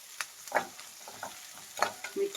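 Onion and tomato frying in a pan for capsicum masala, mixed with a spatula: a light sizzle under a string of quick scraping strokes, close and without speech.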